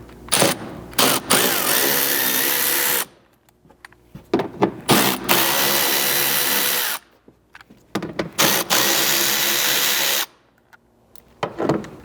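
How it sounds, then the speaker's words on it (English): A ratchet fitted with a 10mm socket clicks rapidly while backing out mud flap screws on a 2nd gen Toyota Sequoia. Several loud bursts of ratcheting are separated by short pauses. "So for these, again, you need that 10mm socket."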